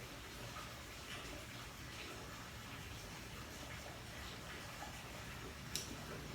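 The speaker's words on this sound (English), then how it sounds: "Can you guys hear the rain outside?" Steady rain patters softly outside, a continuous faint hiss with a single small tap near the end.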